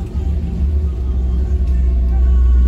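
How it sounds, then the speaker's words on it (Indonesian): Heavy evening traffic in a Bandung jam, with tour buses passing, makes a loud, close, continuous low engine rumble that swells toward the end as a large vehicle rolls by. "minggu macet, dan banyak bis pariwisata yang lewat ya"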